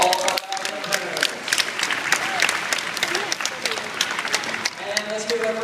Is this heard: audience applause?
yes